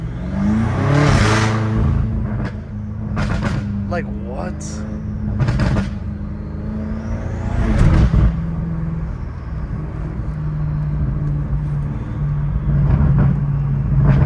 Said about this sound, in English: the burbles that used to be like super mild now just sound so good